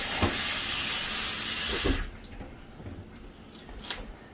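Tap water pours steadily and loudly into a pot of collard greens, then cuts off after about two seconds, leaving faint splashes and light knocks.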